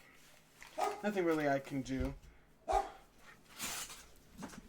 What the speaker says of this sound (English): that's my neighbor's dog going off